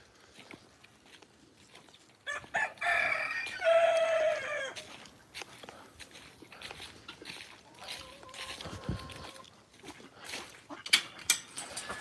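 A rooster named Foghorn crows loudly several times at an animal sanctuary, with clucking fowl and a dog nearby and faint background voices.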